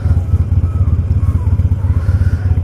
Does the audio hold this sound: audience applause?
no